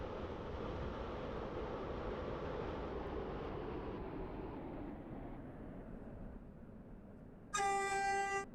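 A Stepford County Railway video game train from Newry pulls into Greenslane terminus: a steady rumbling roll slowly fades as it slows, then a short, bright tonal chime or horn sounds at the end.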